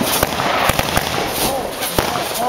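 Consumer fireworks in a backyard home show of 500-gram cakes, popping in a quick irregular string of sharp bursts over a steady outdoor hiss, with voices talking in the background.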